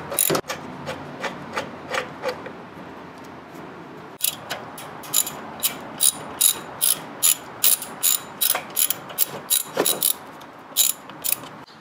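A socket ratchet clicks while unbolting 10mm bolts on a car's intake resonator during a cold air intake install, giving short rhythmic bursts of pawl clicking with brief pauses, close and fairly loud, with no talking.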